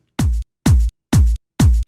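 Kick drum from a dance track: four punchy, booming hits with a short tail, evenly spaced about half a second apart, loud and dry with silence between them.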